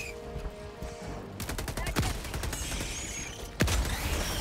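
A small gun fires in Helldivers 2 in sharp, rapid bursts: a short volley, then a louder stretch of repeated shots and one heavy crack near the end, mixed with game effects.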